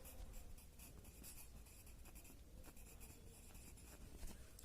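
A pen or marker scratches out a word in short strokes, a faint, steady scraping texture with small gaps between strokes and no talk.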